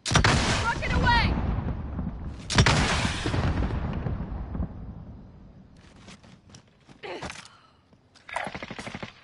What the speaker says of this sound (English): Rocket away!